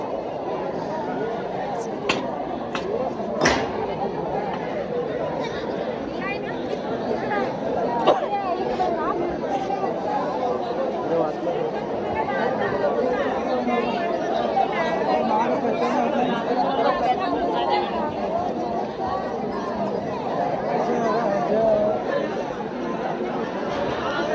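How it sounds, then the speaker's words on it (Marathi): Dense crowd chatter fills a busy Jejuri temple, a steady babble of many voices close around the listener with a few sharp clicks early on. "किती गर्दी इकडे आहे"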